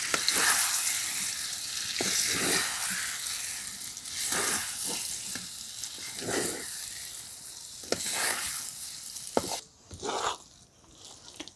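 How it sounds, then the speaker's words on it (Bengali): Semolina batter cooking on low heat while being stirred continuously, a loud close sizzle with repeated spatula scrapes against the pan, easing off toward the end; no one speaks. "জালটা অল্প রেখে অনবরত নাড়াচাড়া করে এগুলোকে সেদ্ধ করে নেব"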